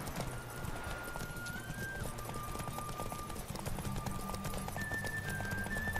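Hooves of the horse Roach clop in a steady gallop in The Witcher 3: Wild Hunt, a continuous rhythmic beat under game music and ambience.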